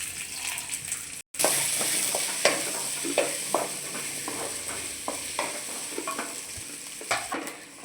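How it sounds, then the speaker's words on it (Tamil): Onion, garlic, coconut and green chili frying and being stirred in a pan, giving a steady close sizzle with repeated scraping stir strokes and a short break near the start. "இப்போ வெங்காயம், பூண்டு, தேங்காய், பச்சை மிளகாய் எல்லாத்தையும் போட்டு மறுபடியும் வறுத்து எடுத்துக்கலாம்."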